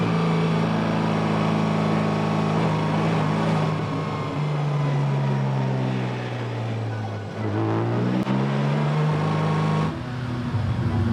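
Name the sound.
Porsche 718 Cayman GT4 engine running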